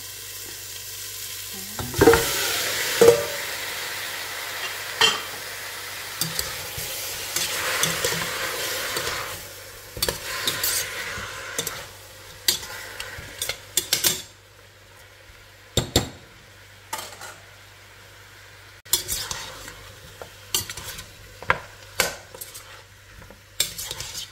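Pork ribs cut into pieces fry in a pan for pork adobo, a soft sizzle running beneath repeated sharp scrapes and clinks of a utensil stirring against the metal, in uneven bursts without talk.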